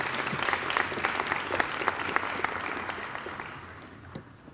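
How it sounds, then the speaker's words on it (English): A crowd claps together in sustained applause at a Dean's List reception, loud at first and then gradually fading over a few seconds. "So can we give a round of applause for Christina?"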